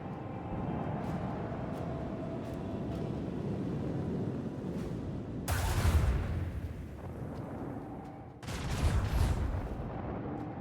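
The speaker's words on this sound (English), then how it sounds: "Explosions!" Two heavy booming blasts land in the Warhammer 40k Rogue Trader video game over a steady rumbling background, each a sudden loud thud with a decaying roar, a few seconds apart.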